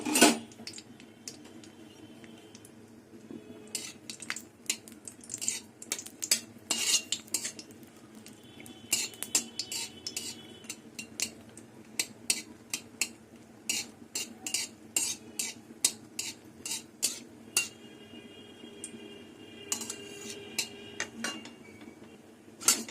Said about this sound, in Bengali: শুকনো লঙ্কা দুটো ভেজে নেব